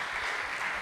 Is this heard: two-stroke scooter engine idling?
no